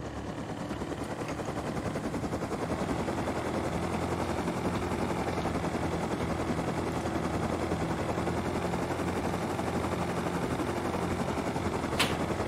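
Gunfire in the survival video game Rust, rapid steady shots sounding continuously under a constant engine-like drone, moderately loud throughout with one sharper crack near the end.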